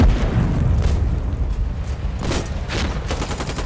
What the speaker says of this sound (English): I'm gonna shoot the rocket. In 40mm.